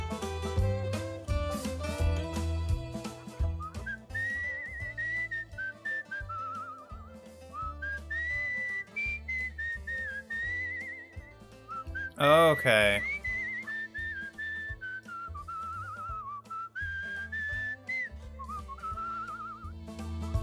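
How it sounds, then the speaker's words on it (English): Melodic whistling from the video game Where the Water Tastes Like Wine plays over a soft musical backing, a wavering tune of sustained notes with a brief sweeping flourish midway; a voice speaks a single short word. "the whistling mechanic makes no sense to me"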